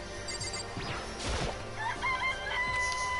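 In Danganronpa: Trigger Happy Havoc, a chicken clucks and then lets out a long crow, with a sharp crash near the middle, all over low game music.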